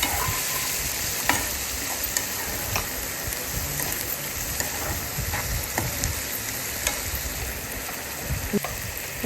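Onions and green chillies sizzling in a pan while being stirred, a steady loud hiss of frying with scattered scraping clicks of the spoon, and no voice.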